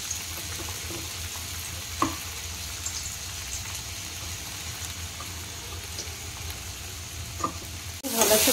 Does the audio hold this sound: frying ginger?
yes